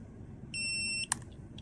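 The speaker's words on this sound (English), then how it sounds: "hold it down until you hear a beep" A single clear electronic beep of about half a second from a Mata T2 device as it enters settings mode, followed by a brief chirp, faint and alone in a quiet room.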